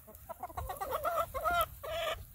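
Backyard chickens cluck in a busy, overlapping series of short calls close by, with a few longer squawking notes near the end and no talk.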